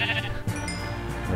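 Sheep bleating in the Minecraft video game, a couple of synthetic bleats at steady loudness with a game music or ambient bed underneath, no talking.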